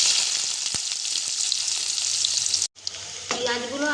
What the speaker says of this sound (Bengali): পেঁয়াজগুলো আমি গোলাপি করে ভেজে নিয়েছি